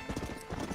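Horse hooves clip-clop in the Red Dead Redemption video game, a quick run of rhythmic thudding steps, close and clear, with no talk over them.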